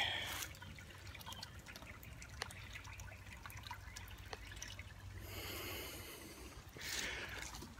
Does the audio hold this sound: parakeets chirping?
no